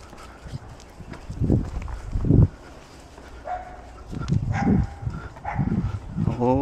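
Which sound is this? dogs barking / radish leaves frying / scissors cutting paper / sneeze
dogs barking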